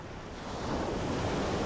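A massive tsunami wave builds into a towering wall of water approaching the coast, heard as a loud, steady broadband roar of surging water and wind that swells slightly and holds, with no voices.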